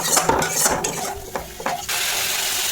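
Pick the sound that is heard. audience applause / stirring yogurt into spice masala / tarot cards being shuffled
stirring yogurt into spice masala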